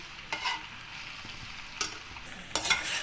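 Chicken macaroni pasta cooks in a pan over a low flame, a soft continuous sizzle broken by three short scraping stirs of a spoon against the pan, close and fairly quiet.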